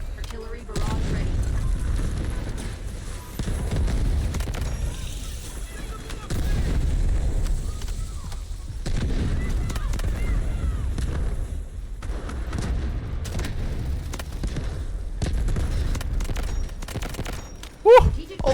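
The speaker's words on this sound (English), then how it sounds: "Artillery barrage ready." An artillery barrage in Delta Force rumbles as a continuous series of deep booms and explosions, heavy and sustained, with voices talking over it.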